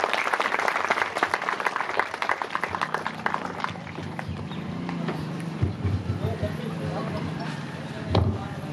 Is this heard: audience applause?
yes